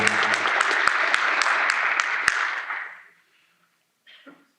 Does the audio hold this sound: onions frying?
no